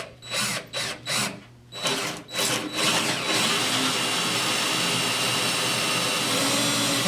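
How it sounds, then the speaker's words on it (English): A power drill with a half-inch bit whirs in short bursts, then runs continuously with a loud, steady high-pitched whine as it bores through material. "I'm going to cut or drill each of those holes right now."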